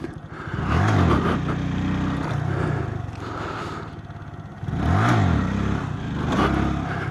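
An 8hp motorcycle revs hard during wheelie practice, with two sharp throttle bursts that rise and fall, separated by a steadier engine drone, loud and close.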